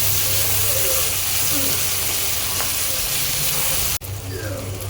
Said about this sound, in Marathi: बारीक चिरून घेतलेला एक टमाटा पण याला सॉटे करूया थोडं